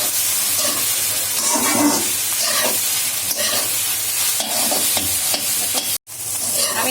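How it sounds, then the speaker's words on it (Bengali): Parboiled rice stirred in a frying pan, a loud steady sizzle with rhythmic scraping and tossing sounds up close, cut by a brief silent dropout near the end, no talking. "আমি রাইসটা দিয়ে দিলাম, এবার আমি ভালো করে নেড়ে চেড়ে নিচ্ছি"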